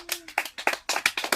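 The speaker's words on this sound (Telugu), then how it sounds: "చప్పట్లు కొట్టండి." Hands clap about eight times in a quick, slightly uneven rhythm, close and fairly soft. The claps are heard alone, as applause during a number guessing game.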